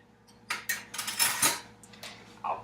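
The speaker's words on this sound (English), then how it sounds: "Let me grab another spoon here so I can scrape that off." Metal spoon scraping sugared lavender off another spoon, a handful of quick clinks and scrapes, close and clear, with no talking.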